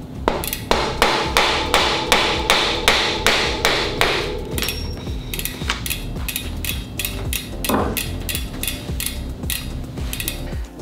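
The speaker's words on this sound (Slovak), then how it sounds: "V prípade, že nám ide ťažšie vybrať, pomôžeme si kladivom." Hammer knocking a bicycle crank and axle out of the bottom bracket: a steady run of sharp, evenly spaced metallic blows close by, easing into lighter, busier taps and clinks.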